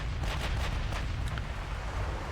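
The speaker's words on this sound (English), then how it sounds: "Okay, second group, all guns target the Aegir." Naval guns firing in Ultimate Admiral Dreadnoughts during a 1920 US campaign battle: a steady, heavy low rumble of distant cannon fire and booms, without speech.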